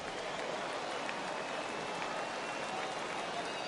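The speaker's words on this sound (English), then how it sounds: "Yeah, the rain starting to intensify here. It's coming down a little heavier now." Rain falls in the baseball video game MLB 18, a dense, steady hiss of drops that stays even throughout with no voices over it.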